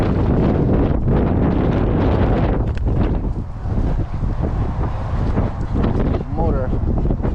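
Strong gusts of wind buffet the microphone at an outdoor RC plane flying field, a loud, continuous low roar that swells and dips throughout, with a person talking underneath.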